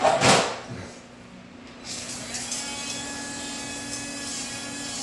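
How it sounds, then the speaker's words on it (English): A handheld nail grinder buzzes steadily against a dog's toenails, starting after a brief burst of noise and running continuously at moderate level close by, with a faint speaking voice underneath at the start. "We're gonna grind your toe."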